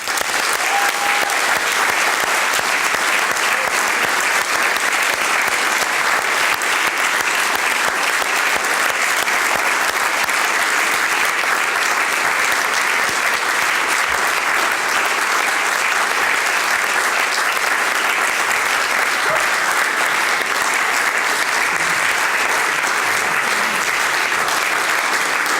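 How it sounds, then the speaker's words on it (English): Sustained, loud applause from the audience at the Ethics in Sports Awards, held at FIFA Headquarters, forms a thick, unbroken roar of clapping that continues at full strength for more than twenty seconds without fading. "Let's give them a big round of applause."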